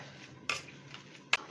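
Boiled potatoes and chicken being mashed together for cutlets, two sharp scraping knocks of a utensil against a bowl standing out over quiet kitchen background, with no talk.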